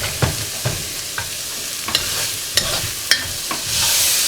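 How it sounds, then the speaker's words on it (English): Onions sizzle and fry in a black cast-iron pot while a utensil stirs and scrapes at intervals, a steady close hiss punctuated by sharp clinks, with no voices. "I'll brown these onions real good."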